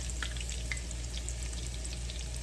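Mongolian meatballs browning in a frying pan give off a steady, close sizzle with faint crackles and pops. The sound is continuous, with no voices.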